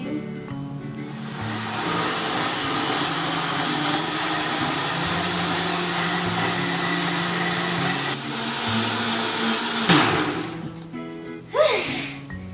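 A countertop blender whirs loudly and steadily while blending a healthy fruit smoothie, its motor droning for about ten seconds before a pitch shift and slowdown near the end.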